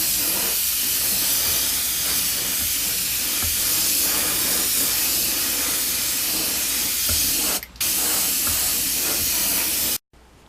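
An airbrush sprays paint onto plastic motorcycle parts for an FZR restoration, a loud continuous airy hiss that runs steadily for about ten seconds, briefly dipping once before cutting off abruptly.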